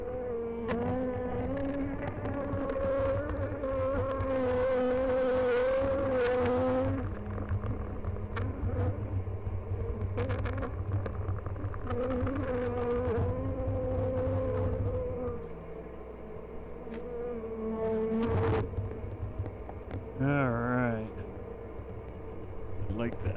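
A dense, steady drone of honeybees around an open hive at a mountain apiary, with layered buzzing tones rising and falling throughout and someone talking over it in places.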